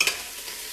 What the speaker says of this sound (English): I hear them sizzling back here.